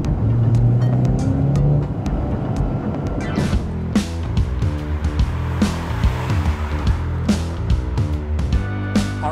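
A Mercedes-AMG GLA35 with a turbocharged engine accelerating hard, a loud, rising engine note heard from inside the car with several distinct gear shifts and a strong pull as the turbo boost builds.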